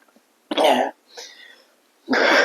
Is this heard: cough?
yes